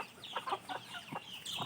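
Chickens cluck softly in a few short, scattered bursts, faint and close, with no talking over them.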